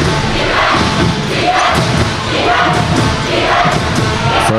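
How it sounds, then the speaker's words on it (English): A loud crowd roars and cheers steadily at a boys high school basketball final, with scattered thumps of the ball and feet in the arena. "Crowd is loud."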